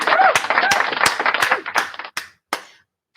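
A single person claps hands in applause, a quick run of sharp close claps that slows into a few isolated spaced claps before stopping.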